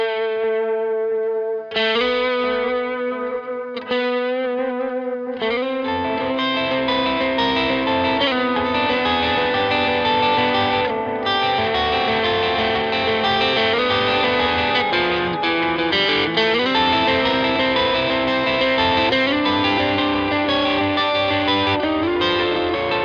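Electric guitar played on the neck pickup through a delay effect with distortion: sustained chords and ringing notes with echoing repeats, loud and continuous, with no talking.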